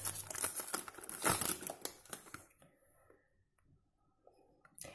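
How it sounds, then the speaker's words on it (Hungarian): Paper crinkles and tears while an Oriflame perfume box is unboxed, close and crisp in quick irregular bursts that fade into near silence, with a last rustle at the end. "Bocsánat, zörög-zörög ez a papír."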